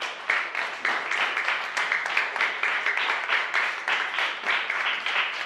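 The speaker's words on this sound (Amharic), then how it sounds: "ለበረከት አበራ ሞቅ ያለ ጭብጨባ።" Warm applause for top student Bereket Abera at a class awards gathering: steady, dense clapping from a sizable audience, continuous and fairly loud throughout with no talking.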